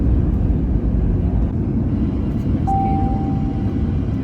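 An airliner comes in to land on runway 1 left at Oslo, heard from inside the cabin as a loud, steady low roar and rumble that holds throughout, with a faint tone partway through.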